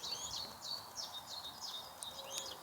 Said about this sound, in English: I'm just listening to those birds.